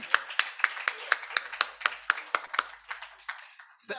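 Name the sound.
audience applause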